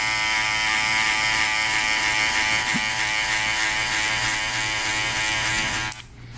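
A Gold FX hair clipper cuts hair during a textured haircut, giving off a steady, close, high-pitched electric buzz that holds evenly for several seconds and then cuts off abruptly near the end.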